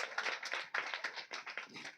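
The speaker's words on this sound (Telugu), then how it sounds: "అందరు చప్పట్లు కొట్టండి." Church congregation clapping together, a quick, steady run of dense hand claps at a fairly low level, with no words spoken over it.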